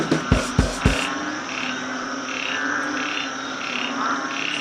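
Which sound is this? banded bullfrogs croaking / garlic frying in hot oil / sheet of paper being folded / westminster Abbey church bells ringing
banded bullfrogs croaking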